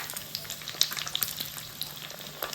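Chicken popcorn fries in a mini kitchen pan over a low flame, a soft close crackling sizzle with small irregular pops throughout, quiet and without speech.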